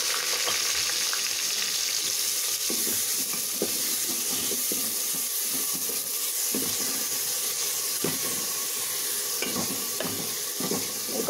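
Chopped onions fry in hot oil, giving a steady bright sizzle and hiss throughout, with occasional soft stirring clicks and no talking.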